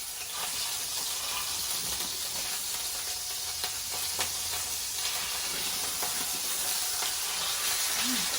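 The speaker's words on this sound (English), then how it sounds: "So I'm gonna get this beef browned" Ground beef browns in vegetable oil in a pan, giving a loud, continuous sizzle and crackle close to the ear, with a few faint clinks and no talking.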